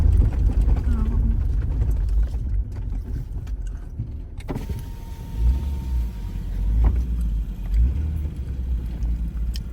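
A car rolls along a well-maintained gravel road out to a Northern Minnesota campsite, a loud, steady low rumble with crunching tire noise, and a voice talks over it.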